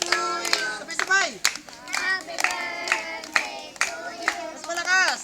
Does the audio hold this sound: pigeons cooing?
no